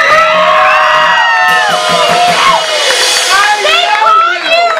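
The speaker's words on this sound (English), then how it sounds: "Please give him a round of applause." A live crowd at a bar gig whoops, shouts and cheers loudly for the singer, with scattered yells and clapping rising and falling for several seconds.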